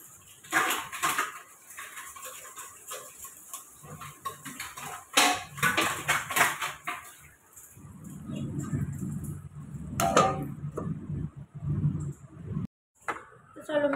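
Oily dishes scrubbed with soap, with clattering pots and plates, scraping and the splash of water coming in bursts close by while someone talks over much of it.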